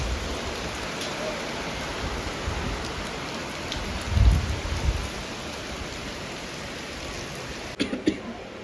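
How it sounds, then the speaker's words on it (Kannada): Heavy rain pours in a steady, dense hiss close by, with a couple of low thuds partway through and near the end. "ಮಳೆ ಬರ್ತಾ ಇದೆ ಗೈಸ್. ಇಲ್ಲಿ ಎಷ್ಟು ಜೋರಾಗಿ ಮಳೆ ಬರ್ತಿದೆ ಗೊತ್ತಾ?"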